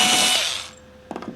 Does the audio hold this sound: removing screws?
yes